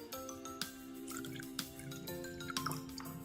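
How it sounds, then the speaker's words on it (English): Water is poured into a homemade glossy slime mixture of glue, giving a short run of splashy liquid sounds broken by several sharp drips and clinks against the container. "let's add some water"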